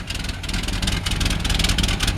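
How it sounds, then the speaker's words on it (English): A 1948 Oldsmobile Coupe engine idles steadily, its exhaust note a low, continuous rumble heard close up, with no talking over it. "you can just hear that exhaust. It just sounds very puny compared to really the car that it is"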